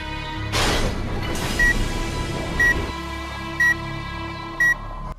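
Short electronic beeps from Devil May Cry 2 repeat about once a second over a steady hum and a brief crash.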